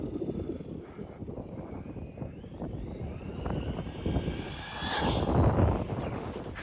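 An HPI Maverick Quantum Flux MT radio-controlled monster truck running outdoors, its electric motor whining and rising in pitch as it speeds up, over rough crunching ground noise that grows louder near the end.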